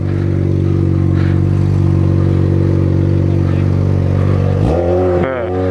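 A motorcycle engine runs steadily up close, rumbling loud and constant, then revs up sharply near the end with rising pitch.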